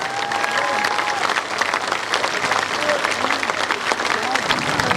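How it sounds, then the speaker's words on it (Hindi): A large crowd at a Jan Suraaj party gathering claps loudly and steadily at close range, a dense, continuous wash of applause with some voices mixed in. "जोर से ताली बजाइए।"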